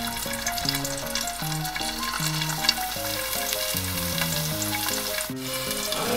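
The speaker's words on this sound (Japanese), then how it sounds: "これで蒸し焼きにしていきます。" Food steam-fries in a covered pan, giving a steady, crackling sizzle throughout with a stepped melodic tune running quietly underneath.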